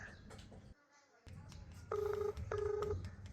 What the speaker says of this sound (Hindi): एक बार फोन उठा लो यार